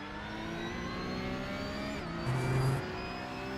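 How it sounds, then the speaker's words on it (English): A race car in the iRacing sim, a Porsche 992 Cup at the Nurburgring 24 Hours, holds a steady engine drone as a second car approaches from behind and swells louder, its higher engine note rising briefly above the first. "Watch your mirrors, there's a car approaching"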